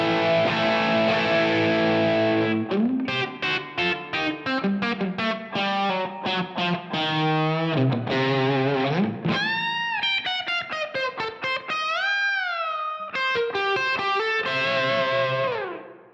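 An electric guitar played through a Helix Native country rock patch with distortion, amp, cab, EQ and reverb, picking fast twangy runs and chords with string bends, loud and close with a reverb tail.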